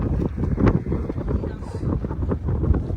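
Wind buffets the microphone in an open farm field beside a large pond, in steady, rumbling gusts, loud and close, filling the whole moment with low roaring noise.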